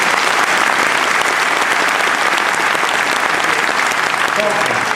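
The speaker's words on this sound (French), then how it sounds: "vous pouvez l'applaudir très très fort. Anthony Charteau." A crowd at a Vendée cycling presentation evening claps loudly and continuously for a cyclist, a dense, even wall of applause with no break.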